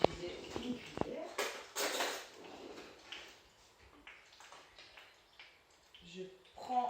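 A spoon and dishes are handled in a kitchen while a burger with potatoes and carrots is prepared, with scattered clinks and scrapes and soft knocks, and a person talking quietly between them.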